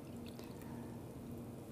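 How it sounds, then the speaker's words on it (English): Water poured steadily into a laboratory beaker resting on a sloped soil surface, a soft continuous trickle and splash at low volume lasting under two seconds, with no talking. "and we'll fill it with water."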